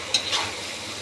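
Pickle is stir-fried with chopped dried chilies in a pan, giving a brief steady sizzle with a couple of quick scraping stirs near the start, no voices.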